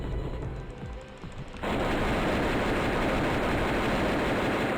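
Rapid rifle or machine gun fire in the flash game AliO Operation starts abruptly after a quieter stretch and continues as a dense, loud, unbroken stream of shots to the end.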